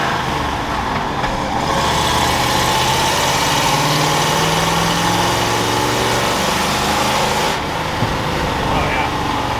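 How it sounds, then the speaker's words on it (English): A 1986 Ford F250 with a custom exhaust idles continuously, a steady low rumble heard from inside the cab with exhaust drone coming through the floor, with talking over it throughout. "you're gonna hear a lot of the exhaust noise through the floor"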